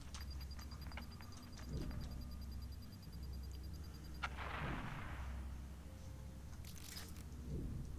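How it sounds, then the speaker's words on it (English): A bomb explodes in the video game Watch Dogs 2, a sudden muffled boom with a spreading rumble tail, set among softer game sounds and a few later thuds. "I mean, I know it was a bomb, but where from?"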